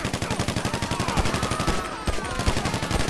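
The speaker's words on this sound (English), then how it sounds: "Okay, only pistol I can shoot." Rapid, rhythmic pistol-style gunfire in the online game GTA V Online, with steady repeated shots close up and loud across the whole stretch, some crisper reports standing out near the end.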